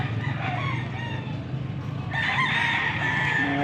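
A Boston-breed rooster crows once, loud and nearby, after a couple of seconds of softer clucking and farmyard background.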